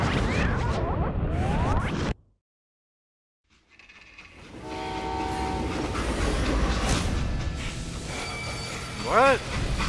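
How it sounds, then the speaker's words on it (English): Freight train in the Call of Juarez video game, a loud rumble that cuts to near silence, then returns with rolling wheel clatter and ringing metallic tones, ending in a short rising horn-like blast. "They hopped a freight train"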